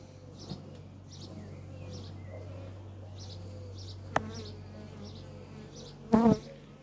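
Steady honey bee buzzing close by, a single queen bee held in the hand, a continuous drone with faint chirps and a brief louder rustle near the end.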